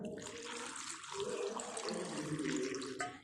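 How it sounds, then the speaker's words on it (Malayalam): Water is poured steadily into a cooking pot of drumstick and shrimp curry, a close, continuous gurgling stream lasting about three seconds before it cuts off. "ഇനി നമുക്ക് ആവശ്യത്തിന് വെള്ളം ഒഴിച്ചു കൊടുക്കാം"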